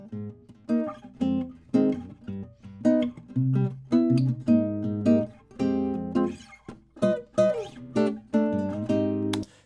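Acoustic guitar captured with a Neumann U87 microphone from about two or three hand-spans away, unprocessed: rhythmic plucked chords with ringing strings, close and clear, with no voices.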